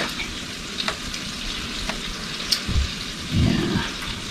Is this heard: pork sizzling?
yes